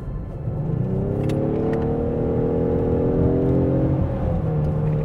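A 2024 Ford Mustang convertible accelerates hard, its engine note and air intake rising steadily in pitch as the revs climb, a loud, sustained whirring roar with road rumble underneath and no voices.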